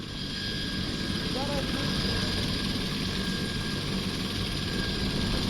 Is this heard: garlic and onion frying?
no